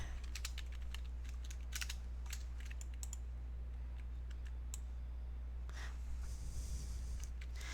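Computer keyboard typing during a Roblox game, a steady run of quick key clicks with brief pauses, close and fairly faint over a constant low hum, no talking.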